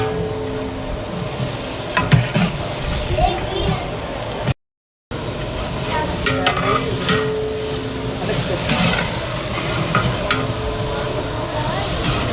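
Ingredients frying in oil for a 10-kilo family biryani cooked in one large batch: a loud, steady sizzle with stirring and scraping throughout, as people talk over it.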